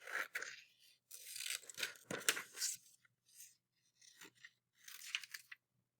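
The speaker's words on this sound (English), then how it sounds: "Okay, so I'm going to cut that one out." Paper being cut out with scissors in bursts of crisp snipping and rustling, close and fairly quiet, with short pauses between cuts and no talking.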